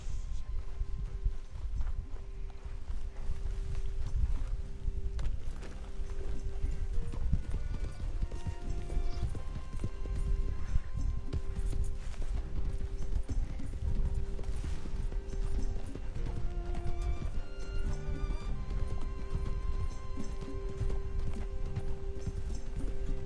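Steady clip-clop of horse hooves at a brisk pace in Red Dead Redemption 2, continuous and fairly loud, with a faint whinny and busy game background sounds.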